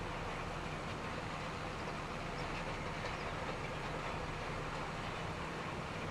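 Tractor engine in Farming Simulator 25 on a Western Australia wheat farm, a constant dense rumbling drone with no pauses, steady and fairly loud throughout.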